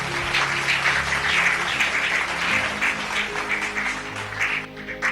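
A church congregation applauds and cheers for Jesus, steady crowd clapping filling the room for several seconds with a faint musical or voice hum beneath.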